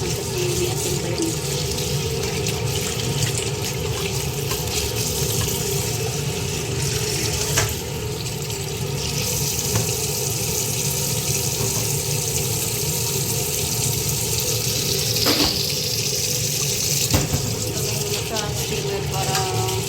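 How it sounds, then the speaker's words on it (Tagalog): Tap water runs steadily into a sink while a lapu-lapu fish is rinsed of salt, a continuous splashing stream with occasional small knocks and movements. "Kailangan siyang hugasan kasi may asin pa yun."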